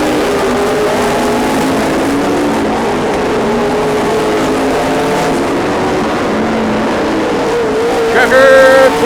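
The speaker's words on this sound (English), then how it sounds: "Bill Taylor making a move on Austin Hartman on the backstretch" Race cars circling a short track in the final laps of a feature event, a continuous loud engine drone with layered revving tones, rising briefly near the end.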